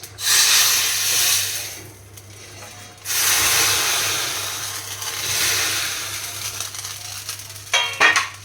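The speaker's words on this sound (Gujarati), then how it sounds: "હવે આ દાળમાં વઘાર એડ કરી દઈશું" A tempering (vaghar) of hot oil and spices, including asafoetida and red chili powder, is poured into Gujarati dal and gives a loud, bright sizzle. The sizzle comes in several surging waves over a low hum and slowly fades.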